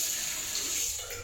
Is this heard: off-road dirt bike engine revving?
no